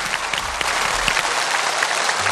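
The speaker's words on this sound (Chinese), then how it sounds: "那我们把掌声送给我们的漂亮模特们" A studio audience on a TV health show applauds the models with brisk, dense clapping that carries on steadily, fairly loud and close, with no talk over it.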